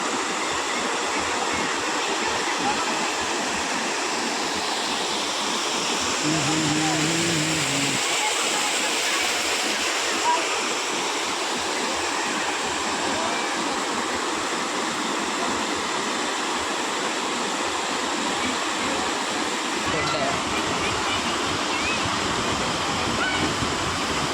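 Vyaghreshwar waterfall at Manche in the Konkan, a steady broadband rush of falling water filling the whole clip, with a brief tonal sound partway through and faint voices of a crowd of bathers in the background.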